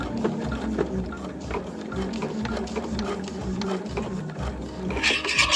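A sewing machine stitches a box stitch on a fabric dog collar, a close, steady run of rapid mechanical patter lasting the whole stretch.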